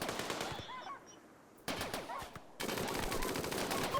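Loud burst gunfire in a video game where Doomguy fights waves of enemies: dense, rapid shots that break off briefly, then resume as a continuous rattling barrage.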